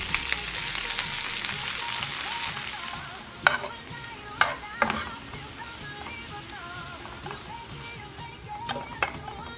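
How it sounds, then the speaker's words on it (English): Spinach and garlic sizzle steadily in a hot pan while a utensil stirs them, with a few sharp scrapes and knocks against the pan over the constant frying hiss and no voices. "add the spinach and stir it with the garlic until it is well cooked"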